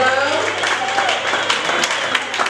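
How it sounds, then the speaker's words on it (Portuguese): A church congregation claps steadily for a sermon, a dense continuous wash of applause mixed with voices and a low steady hum from the room. "A igreja pode tomar o seu assento batendo palmas pela palavra."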